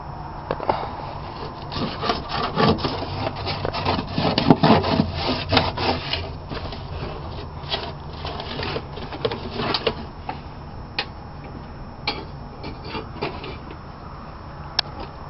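Wood panels are sanded by hand inside a vehicle interior being fitted out, with close, irregular scraping strokes that come in bursts and grow sparser toward the end, no talking.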